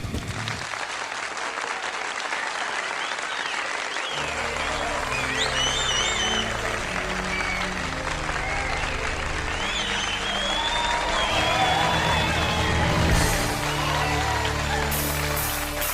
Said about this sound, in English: Let's get a round of applause for the Reverend Matty F's lava lamp.